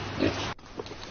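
Pigs grunt and oink at a Tibetan village cooperative farm that raises 3,000 of them; short, close, rough grunts come over a busy background, with a brief break partway through.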